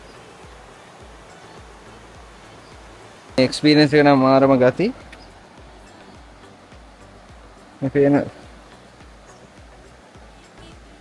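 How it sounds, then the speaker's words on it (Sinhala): A small stream flows past a swaying suspension bridge at a Sri Lankan resort; its steady, moderate water rush runs throughout while people talk in two brief bursts. "පොඩි දොළ පාරක් යනවා මෙතනින්."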